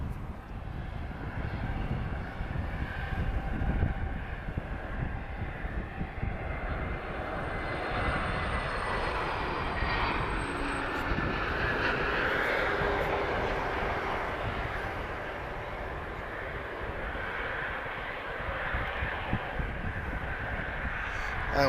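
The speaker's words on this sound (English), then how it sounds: "This is an A321neo, operated by EasyJet Europe." EasyJet Europe Airbus A321neo arriving at Lisbon Airport from Lyon, a steady, sustained jet engine roar lasting over twenty seconds, heard from an outdoor spotting position with some faint background voices.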